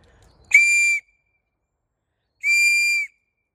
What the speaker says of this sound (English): The whistle usually works.